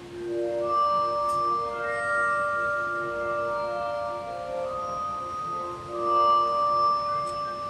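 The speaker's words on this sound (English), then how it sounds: "Glass harp." Shimmering, bell-like synthesized tones with a glassy sustain from a glass harp patch on a Yamaha Reface DX, holding steady chords that shift gently and ring out alone.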